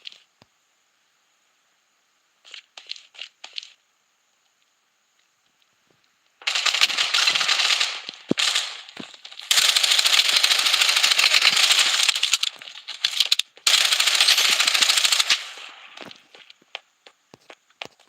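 Rapid video game gunfire in a squad shootout, dense automatic bursts arriving in several long loud volleys after quieter footstep-like clicks at the start.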